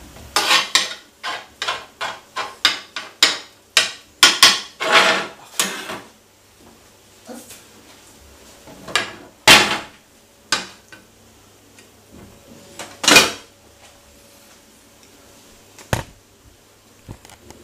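Spinach stuffing for Tunisian yabraks being mixed, with a quick run of sharp utensil clicks and scrapes against a bowl early on, then sparser isolated knocks, close and fairly loud with no voices.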